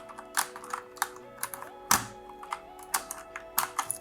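An Akko 3068 Bluetooth mechanical keyboard being taken apart to reach its PCB, with irregular close-up clicks, taps and plastic knocks as parts and screws are handled, with no talking.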